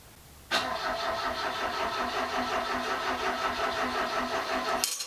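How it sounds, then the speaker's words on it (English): An old Fiat car engine cranks and catches, then settles into a loud, steady idle close by for several seconds before cutting off abruptly. "Wait, is that you trying to start the car?"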